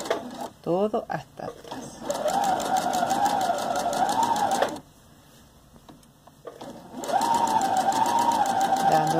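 A domestic sewing machine stitches fabric for a small stuffed dog toy in fast, even running bursts, stopping briefly between seams, while someone talks in Spanish.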